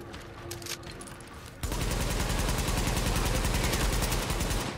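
Automatic gunfire in Tom Clancy's The Division erupts suddenly after a quieter moment, a loud rapid stream of shots that continues densely to the end.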